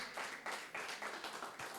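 Scattered clapping from a congregation at a Sunday church service, a brief burst of applause with a steady, slightly distant quality.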